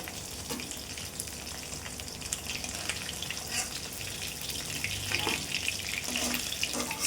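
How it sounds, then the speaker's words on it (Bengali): Steady, close sizzling and crackling of bata fish frying in hot oil, continuous throughout with occasional louder spits and pops. "এরকমভাবেই আবার যে কটা মাছ আছে মাছ কটা ভেজে নেবো"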